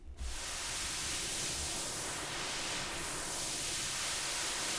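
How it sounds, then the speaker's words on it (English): Steady broadband synthesized hiss with a filter notch sweeping slowly up and back down, giving a soft whooshing phasing quality; no voices. "let's bring up our noise source and let's swipe the cutoff control"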